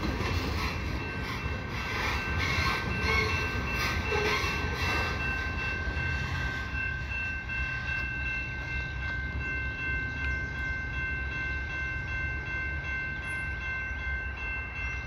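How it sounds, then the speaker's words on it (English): The tail end of a CSX and CN mixed freight train rolls past at Ile Perrot with a steady rumble and ringing wheel tones that ease off after the first several seconds, leaving a quieter rumble. "Here comes the end of the train."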